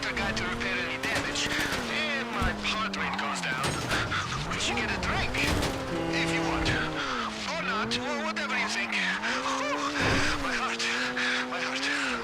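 Supercar in GTA 5 Online, engine revving up and down continuously with tire squeals and scattered sharp bangs mixed in, loud and busy throughout.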